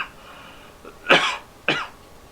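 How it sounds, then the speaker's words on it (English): Two harsh coughs in quick succession, close and fairly loud, the second shorter than the first, with quiet room tone in between. "I do not like coughing."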